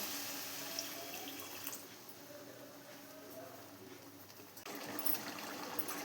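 Water poured into a pot of chicken gravy, a soft continuous trickle and splash under a faint hiss that shifts partway through as the flow changes.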